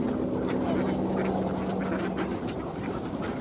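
Ducks wintering in Tsarskoye Selo quack in scattered bursts on a snowy shore while being fed, set against a steady low hum and continuous outdoor background noise.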